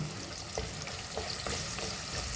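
A curry mixture with tamarind sautés in a pan, giving a dense, even sizzle with a few soft scraping stirs, close and steady, with no voices.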